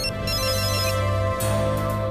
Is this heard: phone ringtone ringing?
yes